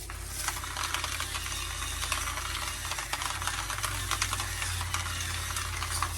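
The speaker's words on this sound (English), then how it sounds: "Give it a stir." A spoon stirring a pot of food that is beginning to sizzle, continuous scraping and clinking over a steady bubbling hiss.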